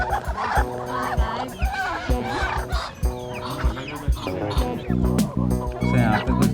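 Hundreds of chickens and roosters cluck and cackle on a chemical-free farm that also keeps goats and ducks, a dense, busy chorus with overlapping calls close by.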